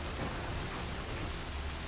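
Steady rain falls in the firefighting game Firefighters 2014, a dense, even hiss of drops with no pauses, fairly soft and alone.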